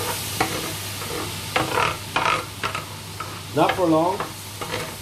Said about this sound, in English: So let's use a ladle. We don't need the tongs anymore. Put that aside. Right. Mix it in. Mix it in.